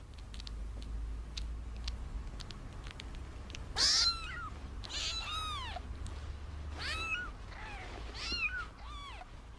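Newborn kittens nursing from their mother let out a series of high, thin meows, several in a row at irregular intervals, fairly close against a quiet background hum.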